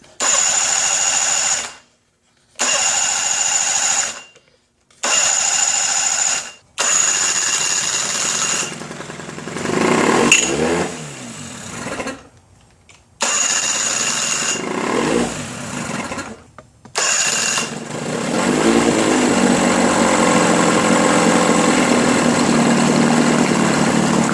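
A Johnson 15 HP outboard motor on test after a rebuild is pulled over several times in loud bursts, then catches and settles into a steady, buzzing idle, close by with no talk.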